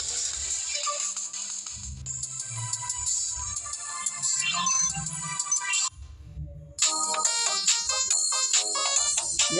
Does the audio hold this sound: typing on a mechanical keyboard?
no